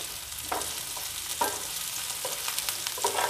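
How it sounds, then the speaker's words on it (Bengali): Onions frying in a pan over medium gas heat while being stirred: a steady sizzle runs throughout, with occasional scraping stirs of the spatula rising briefly above it, close and moderately loud, no talk. "পেঁয়াজগুলো গোল্ডেন ব্রাউন হয়ে গেলে আমি এখানে চিকেনগুলো অ্যাড করব।"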